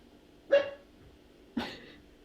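A dog barks at a door indoors, two single sharp barks about a second apart, moderately close, with quiet room tone between them and no talk.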